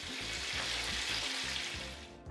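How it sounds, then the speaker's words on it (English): French fries bubble and sizzle steadily in hot oil in a fryer, a dense, close hiss that fades slightly at the end. "while the fries are frying"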